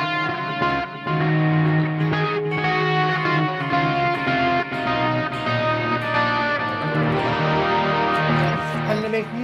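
An electric guitar played through a Boss eBand JS-10 amp set for an 80s heavy metal tone rings out in sustained distorted chords and notes with chorus and echo, loud and steady, no talking.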